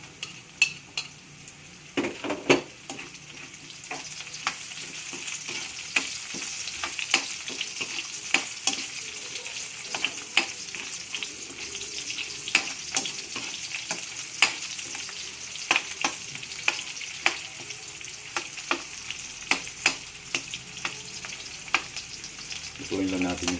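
Onions frying in a pan, a steady sizzle close by with frequent sharp clinks and scrapes of a utensil stirring against the pan.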